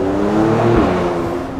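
Mercedes C43 AMG engine revving on a city street in Milan between tall buildings, a loud, close, rising growl that echoes off the facades, lasting under two seconds with no talk.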